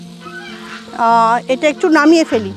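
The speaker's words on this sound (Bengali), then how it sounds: "দেখছো তো হাঁসগুলো বাড়ি যাবে, মানে ঘরে উঠবে বলে ভীষণ চেঁচামেচি শুরু করে দিয়েছে।" Ducks honking and quacking loudly in short, rough bursts close by on a rural homestead, while someone talks over them.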